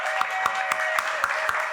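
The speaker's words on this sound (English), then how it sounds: "let's give them a big round of applause to everyone who got up here and shared tonight" An audience at a live storytelling night applauds its storytellers, steady crowd clapping with a few sharper claps standing out in a regular rhythm, brief and fairly close.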